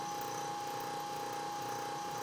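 A 1/3 hp Century single phase repulsion induction motor running steadily, a faint continuous hum with a high whine and a subtle pulsing throb.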